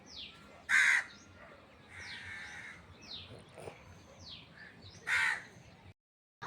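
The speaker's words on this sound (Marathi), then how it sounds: "तर झाडावरती खूपच पंछी बसलेले आहेत आणि पक्ष्यांचा चिवचिवाट" Crows caw from trees on a farm, with two loud nearby caws and several fainter, more distant calls over a soft outdoor background, alone without talk.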